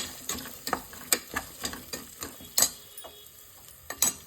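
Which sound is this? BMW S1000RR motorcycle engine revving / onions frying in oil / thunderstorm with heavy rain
onions frying in oil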